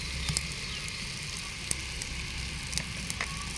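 Tomatoes fry in a pan over a fire of burning leaves, a faint, even sizzle with sparse sharp crackles and pops from the flames, and no talking.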